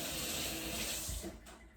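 Tap water running steadily into a sink while hands are washed, a close, rushing stream that cuts off near the end.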